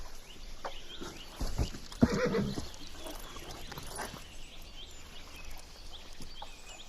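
A horse whinnies once, a brief mid-distance neigh over a soft outdoor background with faint rustling.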